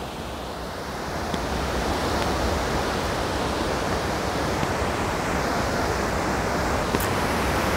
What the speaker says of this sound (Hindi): ये जो पानी का बहाव आप देख रहे हैं ये अपने आप में ही कुछ कह रहा है।